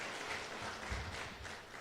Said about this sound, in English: Another big round of applause for our chairperson of APSA